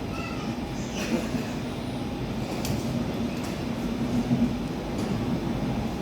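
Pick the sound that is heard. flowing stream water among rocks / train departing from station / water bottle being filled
train departing from station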